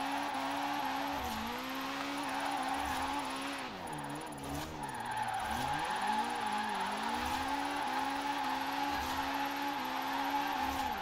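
A drift car in the Forza Horizon 4 racing game skids and spins out, engine revving and wavering under loud, continuous tire squeal, with pitch sweeping up and down throughout.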